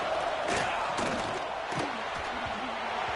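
Stadium crowd in a football video game, a constant roaring wall of cheering and shouting with scattered thumps and calls rising out of the din.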